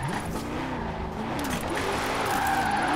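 A supercharged 2020 Ford Shelby GT500 engine revs in Forza Horizon 4, a loud wavering drone with pitch sweeps through the gears and a touch of tire squeal, no talk.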